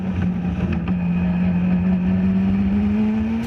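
A Caterham race car at Oulton Park drones loudly and steadily at close range, its engine pitch creeping slowly upward as it holds the throttle. No other sound stands out over it.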